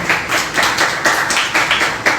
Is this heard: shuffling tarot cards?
no